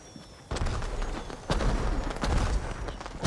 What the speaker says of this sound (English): Where did all these explosions come from?